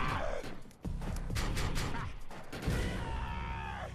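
Pistol gunfire in the PC shooter game Defiance, a run of sharp, loud shots fired in quick succession over a dense, continuous wash of game noise.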